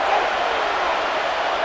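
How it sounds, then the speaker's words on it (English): Stadium crowd roaring steadily in Madden NFL 26 during a Bills versus Dolphins game, a dense, loud, continuous wash of cheering with no break. "This crowd turning up the decibel level."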